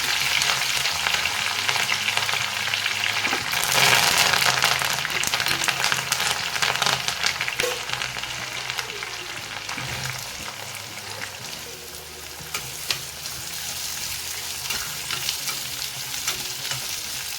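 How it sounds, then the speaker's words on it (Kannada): Chana dal sizzles and fries in hot oil for a tempering with ginger, garlic, green chillies, curry leaves and onion, a steady close crackle with occasional stirring scrapes and no talk. "ಕಡಲೆಬೇಳೆ ಸ್ವಲ್ಪ ರೋಸ್ಟ್ ಆಗ್ತಿದ್ದ ಹಾಗೆಯೇ ಅದಕ್ಕೆ ಶುಂಠಿ, ಬೆಳ್ಳುಳ್ಳಿ, ಹಸಿಮೆಣಸಿನ್ಕಾಯಿ, ಕರಿಬೇವು, ಈರುಳ್ಳಿ ಹಾಕಿ ಫ್ರೈ ಮಾಡಬೇಕು."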